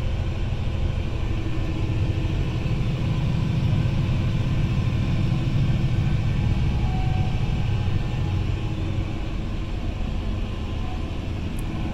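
A 1050 tractor driving, heard from inside as a steady, smooth low engine rumble and drone that holds constant throughout, fairly loud and close, with no talk over it.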